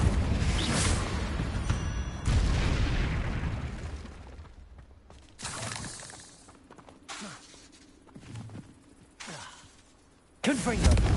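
Repeated Confringo fire-blast spells in Hogwarts Legacy, several loud bursting blasts with crackling, rumbling tails separated by quieter gaps, mixed with game effects.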